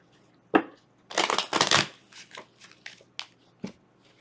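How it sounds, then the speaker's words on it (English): Tarot cards being shuffled up close: a sharp riffle, then longer papery rushes and a few light taps and slides as the deck settles. "This is another good shuffle."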